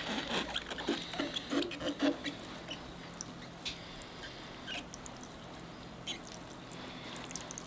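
Water poured from a can onto the soil of a larch forest bonsai planting makes a soft patter and trickle, close and quiet, strongest at first and then tapering to faint dripping.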